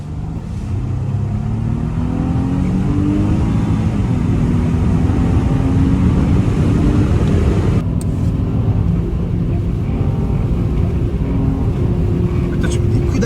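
A 2009 Mercedes CLS 350 CGI with a 3.0 V6 of 300 horsepower pulls hard, its engine droning loudly and rising in pitch under heavy cabin road noise, with a brief shift partway through.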